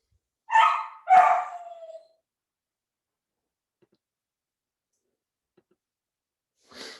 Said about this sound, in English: We're gonna have a probably a little dog noise today